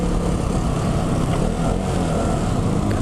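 A KTM Duke 200 single-cylinder motorcycle engine drones steadily and loudly at constant revs, a dense rumbling hum with no pauses or talking.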